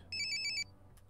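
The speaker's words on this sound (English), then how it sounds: "At 9, I'll get a phone call saying, do you want to go to work?" Phone ringing in The Sims 4, one short burst of bright electronic trilling tones that cuts off abruptly, followed by a faint click against quiet room background.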